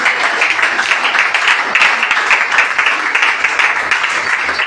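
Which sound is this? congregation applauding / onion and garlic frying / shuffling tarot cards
congregation applauding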